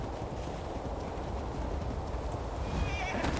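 A horse in the video game Ark: Genesis gives a short neigh near the end, over quiet hoof clops and a low ambient rumble.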